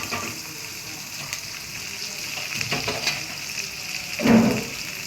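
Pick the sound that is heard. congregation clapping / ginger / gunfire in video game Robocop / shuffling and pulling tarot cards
ginger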